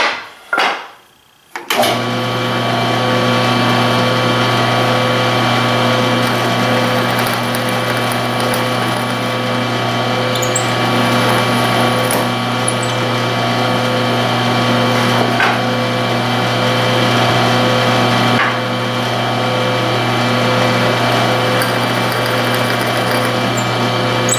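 A power tool cutting mortises in wood, starting after a short quiet gap and then running loud and steady with a constant high whine and grinding texture for the rest of the clip, no speech.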